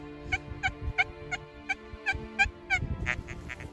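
An XP Deus metal detector sounds a signal tone over a target in a field, a run of short, evenly spaced warbling beeps heard up close above a low background rumble.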